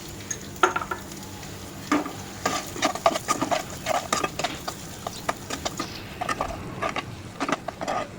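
Chopped onions sautéing with ginger, green chilli and garlic in a pan, a crackling sizzle broken by repeated spoon scrapes and metallic taps against the pan, near and fairly quiet.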